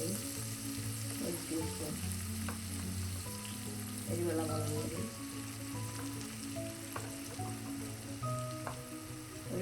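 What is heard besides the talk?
spice powders frying in oil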